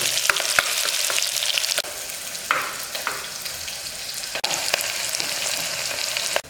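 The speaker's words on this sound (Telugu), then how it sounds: "కాగుతున్నటువంటి నూనెలో కొద్దిగా జీలకర్ర, తర్వాత కట్ చేసి పెట్టుకున్నటువంటి ఉల్లిపాయలు ఇలా వేగేంత వరకు కలబెడుతూ ఉండాలి" Chopped onions and cumin seeds sizzle steadily in hot oil, a loud continuous frying hiss broken by the scrape and clink of stirring for a dry meat curry, with no voices.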